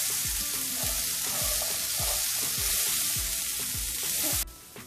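Black chana with peanuts fries in a pan, a loud continuous sizzle broken by regular rhythmic scraping strokes of a spatula stirring, cutting off abruptly near the end.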